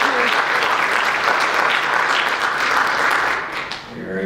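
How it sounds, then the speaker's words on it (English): A spelling bee audience gives a contestant a round of applause. The crowd claps steadily and fairly loudly, then the clapping thins and fades away in the last second. "Let's give contestant 6 a round of applause."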